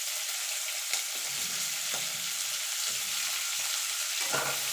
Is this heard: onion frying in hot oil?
yes